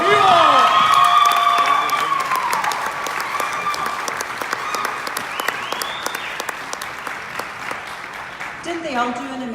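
Applause and cheering from a crowd at the La Reina de la Fiesta de Santa Fe pageant, loud and sustained, with whoops and shouts rising over dense clapping and a voice breaking in near the end.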